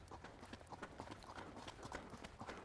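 Hooves of a ridden horse in tölt beat out a quick, even four-beat clip-clop, steady and moderately close throughout.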